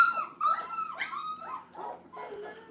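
German Shepherd puppies just woken from sleep whimpering and whining close by, a string of high, wavering cries and yelps that rise and fall with short pauses between them.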